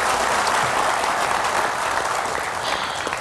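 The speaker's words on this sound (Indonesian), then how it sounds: "Tepuk tangan sekali lagi untuk Jui Purwoto." An audience at a live roast comedy event in Jakarta claps loudly and continuously, a thick, even wash of applause close to the listener with no talking over it.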